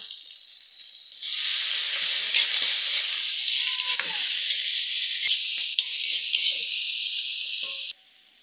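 Chopped tomato and fresh ginger hit hot oil in a pan and sizzle loudly and steadily for several seconds, with faint stirring clicks, then the frying cuts off abruptly near the end.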